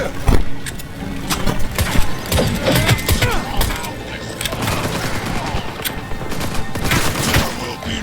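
Dense video game gunfire from Cyberpunk during a firefight, with continuous bursts and shots alongside mechanical clatter and shouted voices throughout.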